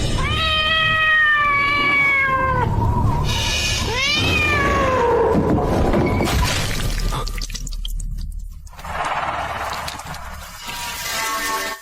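A cat meows in several drawn-out, wavering cries, loud and close, with wet dripping and squishing noises in between and no talking.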